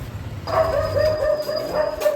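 A dog barks repeatedly at moderate distance, short yaps in a loose rhythm over faint background hum.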